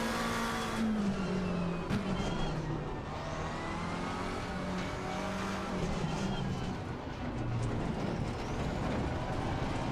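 A McLaren race car in the ACC racing game drives with a continuous engine drone that rises, dips and climbs again through gear changes, with light tire squeal and no speech.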